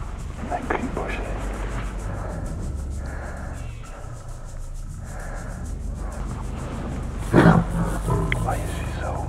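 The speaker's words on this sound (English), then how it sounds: "An ill-tempered lioness has taken it into her head that this is her exclusive hunting area." Low, rough growling from an ill-tempered lioness hidden in a green bush in the African bush, steady and rumbling at moderate distance, with someone talking over it and a brief louder burst near the end.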